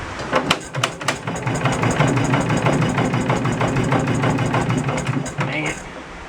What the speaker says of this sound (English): let's see if I can crank the engine over and make a mess